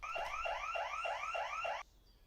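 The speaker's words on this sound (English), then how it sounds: "there appears to be some sort of alarm going off" An alarm sounds in the video game Cataclysm: Dark Days Ahead, a loud repeating rising electronic whoop cycling about six times in steady rhythm before cutting off abruptly into quiet.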